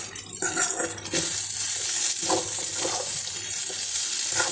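Chira pulao, flattened rice with peanuts, being stirred in a pan, with a continuous sizzle and the scrape and clink of a spatula against the metal, close up.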